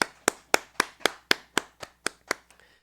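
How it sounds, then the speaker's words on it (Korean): Congregation at a church worship service clapping in unison, about ten sharp, evenly spaced claps in a steady rhythm that fade out at the end, with no talk over them. "하나님께 영광의 박수 올려드리겠습니다"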